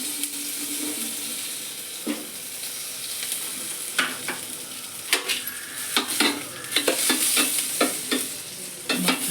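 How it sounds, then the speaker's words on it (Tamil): Butter sizzles softly in a hot pan as a steady hiss, broken by sharp clinks and scrapes of a utensil against the metal, while making paneer butter masala. "அடுப்பில் பாத்திரம் வச்சாச்சு கொஞ்சமாக பட்டர் சேர்த்துக்கலாம்"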